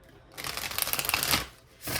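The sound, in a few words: shuffling a tarot card deck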